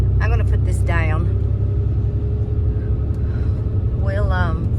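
A car drives fast along a road in Red Boiling Springs, Tennessee, its loud, steady engine rumble running throughout the clip while people talk over it.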